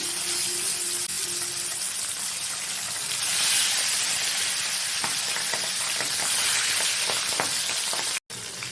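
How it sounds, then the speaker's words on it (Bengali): Milk-coated pabda fish fry in hot oil in a kadai, a loud, steady crackling sizzle with bursts of spitting and spattering, heard close and without talk, ending in a brief dropout. "তো তেলটাও গরম হয়ে গেছে। দুধ মাখানো মাছগুলো দিয়ে দিচ্ছি।"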